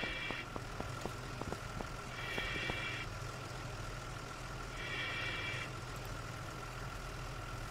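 Fire engines idle on scene in a firefighting game, a steady low engine drone with a rhythmic ticking early on and repeated beeping tones recurring every few seconds, fairly faint throughout.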